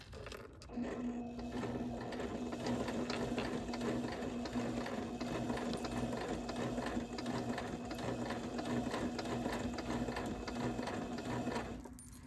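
A sewing machine stitches slowly and evenly through a quilt appliqué, a quiet, continuous mechanical whir with a faint repeating tick, alone throughout.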